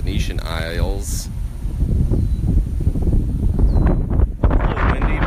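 Strong wind buffets the microphone in a continuous loud roar over flooded ground near the Venetian Isles in New Orleans East, with a voice briefly heard early on under the gusts.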